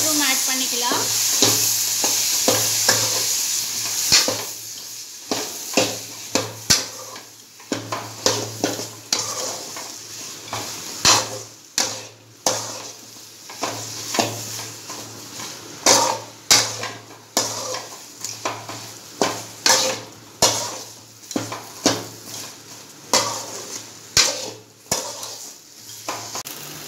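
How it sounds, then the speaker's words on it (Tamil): Cauliflower and beans frying in a pan for cauliflower mushroom chops, steady sizzle under repeated sharp clanks and scrapes of a spatula stirring against the metal, close and fairly loud. "நம்ம காலிஃப்ளவர் பீன்ஸ் ரெண்டுத்தையும் போட்டு நல்லா ஃப்ரை பண்ணலாம்"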